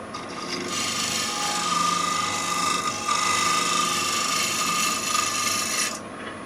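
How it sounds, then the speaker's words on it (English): A negative rake scraper cutting old ridges from a pewter bowl on a lathe, producing a continuous close, loud scraping rasp with a steady whine, sustained for several seconds before stopping abruptly. "I've become a great fan of the negative rate scraper for this kind of work."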